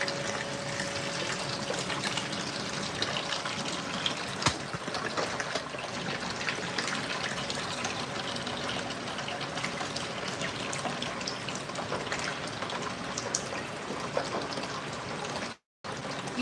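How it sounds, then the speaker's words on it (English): Water draining steadily from a hydroponic tower garden into a bucket, a continuous close rushing and splashing flow with no break except one brief dropout near the end. "I'm just draining the water"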